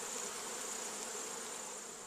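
Bees swarm around a beehive in Tasmania, a dense, continuous buzzing drone heard close and steady without pause.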